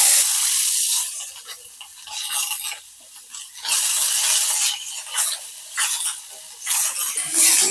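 Radish frying with onions and tamarind in a spoonful of oil over a medium flame in a kadai gives a loud, bright sizzling hiss that surges and dips in bursts, as if being stirred.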